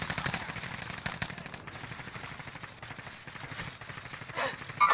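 Gunfire in the Call of Duty Modern Warfare video game, a dense, continuous stream of distant, muffled shots and bursts forming a steady battle din, moderately loud, with no clear talking.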